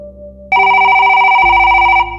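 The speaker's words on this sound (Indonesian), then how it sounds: "Tiba-tiba, telepon di meja berbunyi keras." A desk telephone rings loudly, a sharp electronic ringing tone that starts abruptly and holds steady for about a second and a half, close and with no voices.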